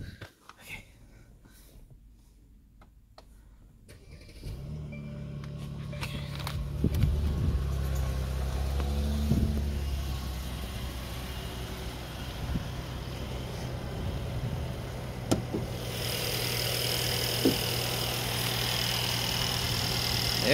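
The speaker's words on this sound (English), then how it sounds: "Maybe you can hear the engine run." A Mercedes-Benz car engine cranks and catches after a quiet pause, then settles into a steady, low idle that runs on at close range with no talk over it.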